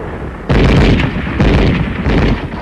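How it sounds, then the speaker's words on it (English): Machine gun fire in arctic combat, loud continuous bursts of heavy gunfire in three close surges after a brief quieter lead-in. "Our machine gun covers the advance."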